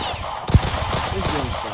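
Rapid video game gunfire in a mobile shooter, with a dense, close, continuous burst of shots and one sharper hit, heard without talk.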